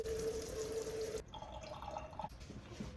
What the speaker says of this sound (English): I'm going to wash these zucchini really well.